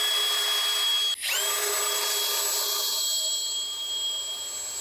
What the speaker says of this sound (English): so I'm gonna drill